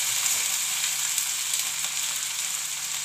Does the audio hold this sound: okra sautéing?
yes